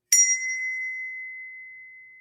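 A small bell is struck once, giving a bright metallic ding that rings on as a long, pure, slowly fading tone, heard alone in silence.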